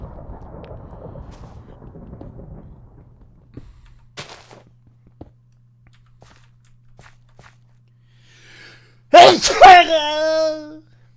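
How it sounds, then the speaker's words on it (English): A single loud, sharp human sneeze bursts out near the end after a quiet stretch with faint footsteps and low background game sounds, close and brief. "Is that my first sneeze on stream?"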